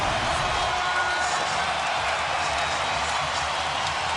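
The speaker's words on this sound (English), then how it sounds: "Listen to this crowd. Everybody in the lower and upper bowl is off their feet." Basketball arena crowd at a Grizzlies vs Suns game roaring as a close contest tightens, a broad, constant wash of cheering from a large crowd, steady and loud throughout.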